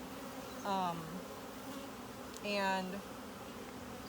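Honey bees buzzing over an open hive during an inspection, a steady low drone with two louder buzzing swells as bees fly close past.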